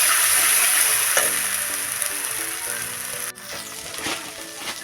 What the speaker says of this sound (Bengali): সর্ষে বাটাটা আমি কম করে নাড়বো